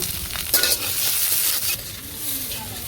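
Chopped onions fry in oil with turmeric, giving a steady broadband sizzle with a few stirring scrapes of a utensil and a brief louder burst near the start. No one speaks.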